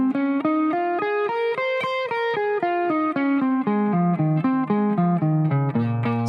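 An overdriven electric guitar runs a minor pentatonic scale at two notes per string, a quick even stream of clean, separated picked notes climbing and then descending, close and loud with no talking.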